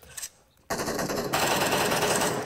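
M249 light machine gun fired in a video game, a loud, sustained automatic burst that starts abruptly after a brief quieter pause and keeps rattling without break to the end.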